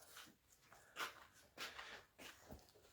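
A dog whimpers and makes soft short yelps in a few separate bursts, faint and close, with no one talking.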